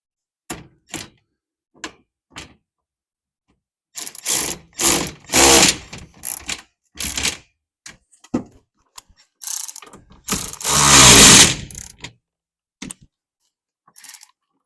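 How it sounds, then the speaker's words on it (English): A cordless ratchet runs in short and longer whirring bursts, separated by silences, while tightening the clamps on a Revolver X4 tonneau cover for a pickup truck bed. The bursts are loud and close, and the longest one comes near the end. "cordless ratchet's definitely the tool we want for this job"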